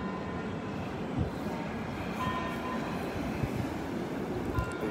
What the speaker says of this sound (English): The trains are running.